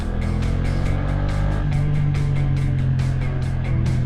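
A BMW F900R motorcycle with carbon fairings runs with a loud, steady engine drone, low rumble underneath and a rhythmic pulsing, its pitch climbing slightly partway through as it rides.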